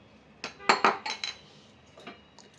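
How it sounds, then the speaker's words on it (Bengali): A metal kadai set down on an induction cooktop in a home kitchen, giving a short cluster of sharp clanks and clinks, close and fairly quiet, followed by a couple of lighter taps. "এবারে কড়াইটা ইন্ডাকশানে বসিয়ে দিলাম"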